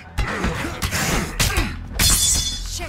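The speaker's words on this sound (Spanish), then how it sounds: "Tu hacha se rompió." Axe breaking in the zombie survival game State of Decay: a sharp shattering crack near the end, following several dull thumps and clatters from melee play, loud and close, with no speech over it.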